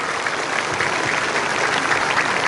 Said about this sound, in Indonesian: Kita tepuk tangan untuk PMTI.